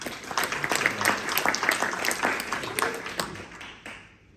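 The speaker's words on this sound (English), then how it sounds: "Let's give him a round of applause" An audience at a talk on ADHD applauds Tom, a steady wash of many hands clapping that swells and then tapers off toward the end, with some speech mixed in.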